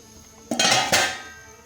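A metal lid clanks down onto a pot of Afghani beef pulao with two quick clattering knocks, close by, ringing briefly before fading.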